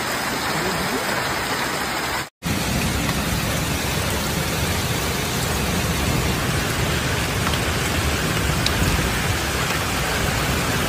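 Hailstorm with heavy rain pounding Paris streets, a dense, steady hiss of falling water that cuts out for a moment early on and then continues unbroken.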